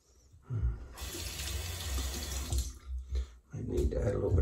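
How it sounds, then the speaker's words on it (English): Water runs from a tap in a steady rush for about two seconds, stops briefly, then starts again, with low knocks and handling noise around it and no talk. "I need to add a little bit of water here on this."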